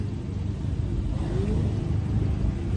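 A 1.4T Volkswagen Jetta engine gives a steady low rumble from inside the car with a faint rising whine, constant and fairly loud throughout, with no speech.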